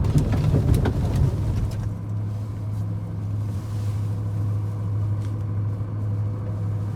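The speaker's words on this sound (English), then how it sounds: "The exhaust note, I can tell, is really nice, even with the hardtop on it." A BMW Z8 with its hardtop on, driving on ice, gives a steady low exhaust drone. A brief burst of louder noise opens the stretch before it settles into a constant rumble.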